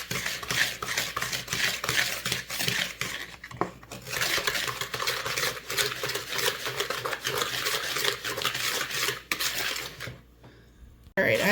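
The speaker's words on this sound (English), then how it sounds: "I've been stirring for a while" Banana pumpkin bread batter stirred by hand in a bowl with a utensil, a continuous close scraping and clinking against the bowl with no talk, stopping briefly near the end.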